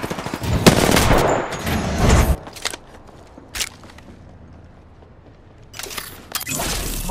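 Automatic gunfire bursts in the battle royale game Apex Legends, Season 8. Loud rattling volleys open the clip and return near the end, with a quiet stretch of soft footsteps and small clicks in between.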